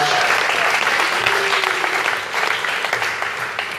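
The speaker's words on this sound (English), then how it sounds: "Big round of applause for everyone." Steady applause from a crowd, a dense wash of clapping that slowly thins out toward the end.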